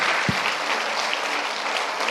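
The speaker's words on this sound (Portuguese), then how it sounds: "Vamos dar uma salva de palmas a Jesus." A church congregation applauds during a Sunday morning worship service, a dense, steady wash of clapping with no talk over it.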